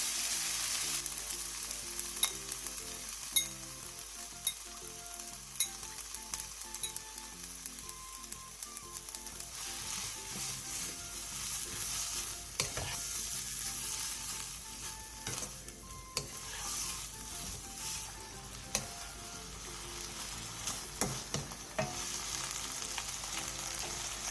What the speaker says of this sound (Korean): 팬에 기름을 두른 뒤 재워둔 고사리와 물 6스푼을 넣고 중불에서 2분에서 3분 정도 볶아주세요.